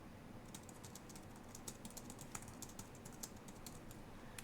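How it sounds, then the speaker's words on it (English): A computer keyboard clatters with quick, irregular keystrokes that come close and clear against a low background hum, with no speech. "If I can use my keyboard properly."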